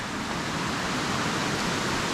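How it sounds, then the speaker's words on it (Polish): Steady rushing water from a small waterfall at Lago di Fusine in the Italian Alps fills the air, a constant broadband hiss, close and unbroken. "Szum wody cały czas."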